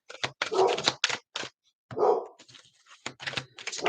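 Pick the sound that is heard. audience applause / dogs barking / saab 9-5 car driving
dogs barking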